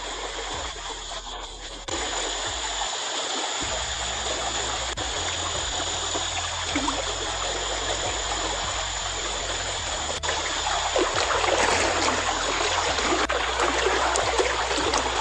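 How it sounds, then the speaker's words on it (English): River water flows steadily around a stalled old diesel tractor broken down midstream, a continuous close rushing and trickling that swells slightly louder toward the end, with no talk. "Working in flowing water makes every repair more difficult."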